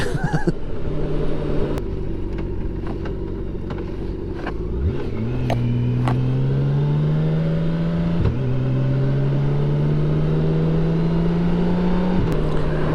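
A motorcycle rumbles along loose gravel on a rural Ozark byway, with the engine droning steadily and then pulling up in pitch as it accelerates. Occasional crunches and knocks come through, continuous and close, with no talk.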